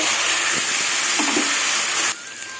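Garlic and green chillies crackling and sizzling in hot frying oil, a loud steady hiss with small pops that cuts off abruptly near the end, leaving a quiet room.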